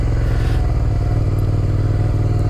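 Motorcycle ridden through a gymkhana course during tire pressure testing, engine droning steadily and close with a continuous mid-pitched hum and light mechanical clatter throughout.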